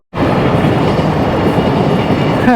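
Two trains in Japan near Mount Fuji roar past very close and loud, a dense, continuous rumble of rushing wheels with a faint squeal near the end.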